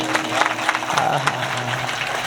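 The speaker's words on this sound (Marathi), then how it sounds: "टाळी वाजवा एकदा आमच्या गुरुजन मंडळी सगळी जोरदार" Audience clapping at a devotional kirtan gathering in Karad, scattered claps from a crowd merging into a loose, moderately loud patter over a low background hum.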